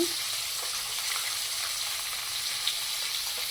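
Mixed vegetables with capsicum and peas frying in a pan over medium heat, a steady, even sizzle held close and continuous throughout, no talking.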